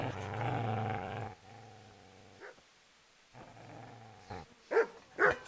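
A dog in the Kingdom Come: Deliverance video game growling in long low rumbling bursts separated by silences, followed by two short sharp bark-like sounds at the end.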